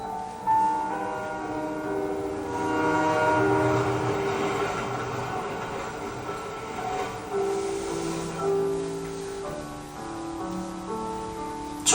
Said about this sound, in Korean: 다시 떠나가는 기차 소리가 완전히 사라질 때까지